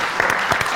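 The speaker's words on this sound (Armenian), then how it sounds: "Ով Էլենին բարձր ծափարենք" A live audience claps during an Armenian stage show, a brief burst of dense, even applause heard close and full, with no voices over it.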